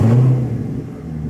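Lamborghini engine warming up, a loud low rumble that swells briefly at the start and then settles to a steadier idle-like drone.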